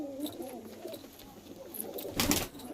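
Pigeons in a loft, including Kaldum, Nazra and Rampuri breeds, coo in soft repeated rolling calls close by, overlapping in short bursts over a quiet background with a brief rustle near the end.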